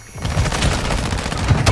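Rapid bursts of automatic gunfire in the video game Warzone 2 rattle on continuously, loud and close, for a couple of seconds.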